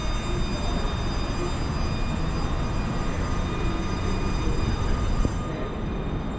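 An MRT Putrajaya line train in Kuala Lumpur, running between Cansaulin and KLCC, gives off a loud, steady underground rumble and rail noise with faint high squeals. The sound is continuous and close, with no talking.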